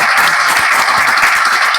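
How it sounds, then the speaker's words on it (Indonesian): Applause from an audience for a speaker at an Indonesian religious talk show, a dense, bright patter of many hands that stays loud and steady throughout. "Tepuk tangan buat Ustadz K"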